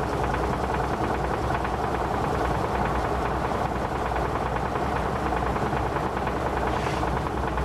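A 1949 Maytag washing machine spins at a little over 500 RPM, giving a steady, dense mechanical drone with a constant whir that holds evenly from start to finish, with no voices.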